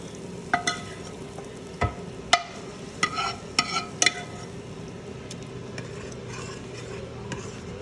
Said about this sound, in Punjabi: ਤੇ ਹੁਣ ਆਪਾਂ ਪਾਵਾਂਗੇ ਇਹਦੇ ਚ ਤੜਕਾ